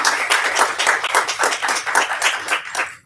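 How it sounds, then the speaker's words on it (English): Audience applause at a women's health and wellness expo, a dense, steady wash of many hands clapping that carries loudly through the whole stretch without talk. "Let's clap again for Miss Candy."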